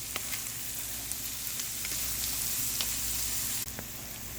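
A spatula stirs smoked paprika into bacon and cabbage sizzling in a pan, giving a steady close sizzle with occasional light clicks and scrapes, no voices.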